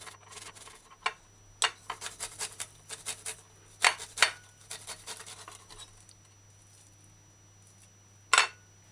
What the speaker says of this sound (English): Grind garlic to puree.